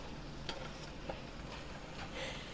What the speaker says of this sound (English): I'm going to go ahead and stir that all up and keep stirring the meat